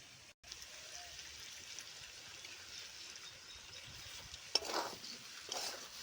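Mung dal, washed and tipped into a pan, fries with spices in a Bengali papaya curry dish, giving a steady soft sizzle and hiss with a few brief louder stirring scrapes near the end; no one speaks.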